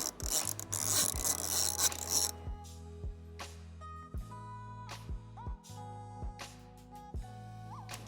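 A ratchet fitted with a T27 Torx bit works loose a bolt on a KTM 990 RC R motorcycle, giving a steady run of close, crisp clicks, first mixed with a brief rubbing scrape and then settling into distinct ratcheting strokes.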